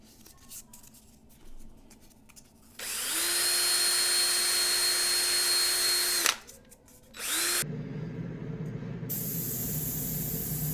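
Aerosol spray paint hissing in steady light coats onto a restored Matchbox 63c Dodge crane truck, a long even burst followed by shorter bursts, close and fairly loud with no talking.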